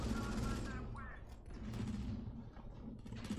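Gunfire in the mobile shooter Modern Combat 5 during a multiplayer match, a steady mechanical clatter of rapid shots with game effects layered over a low rumble, continuous for a few seconds with no talk.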